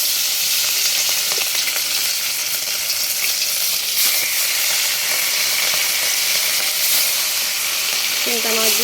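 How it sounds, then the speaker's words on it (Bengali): Turmeric-rubbed fish frying in a pan, a loud, dense and continuous sizzle close by with occasional faint clatter, no voices. "এখন মাছগুলো সুন্দর করে ভাজবো।"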